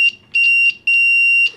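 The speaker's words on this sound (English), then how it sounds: "it makes a beeping sound, so I can use that to do a continuity check on here." A tiny buzzer wired to two AA batteries as a continuity tester gives three sharp, loud, steady electronic beeps of uneven length, with short silent gaps between them.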